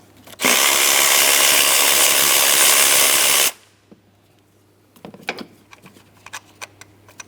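A power tool runs loud and steady for about three seconds while taking out the 10mm bolt that holds an ignition coil on a 2003-2007 Cadillac CTS 3.6L V6. Light clinks and rattles of handling follow.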